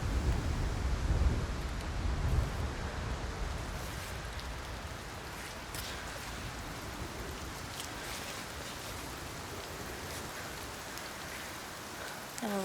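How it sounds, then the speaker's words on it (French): Rain falls steadily in an outdoor setting, a continuous soft hiss of drops on surfaces, heavier at first and then settling into an even patter with no voices. "On va attendre qu'il arrête de pleuvoir"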